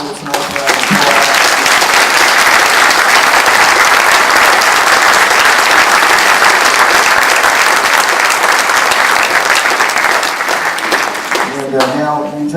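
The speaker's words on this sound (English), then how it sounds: "let's give these candidates an round of applause." Auditorium crowd at a mayoral candidates' forum gives long, loud, sustained applause. The dense clapping holds steady for over ten seconds, then fades as a voice begins speaking near the end.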